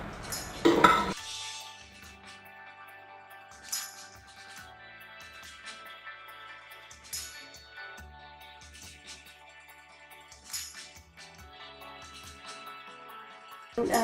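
Kabuli pulao rice being mixed in a metal pot, with a spoon scraping and clinking against the pot in irregular bursts, fairly close, quiet apart from a few sharper knocks and some kitchen hum.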